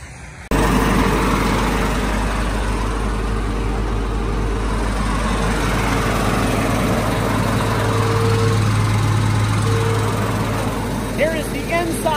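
Nexat harvester machine running, a constant deep engine drone with a steady low hum filling the whole stretch, heard close and loud throughout.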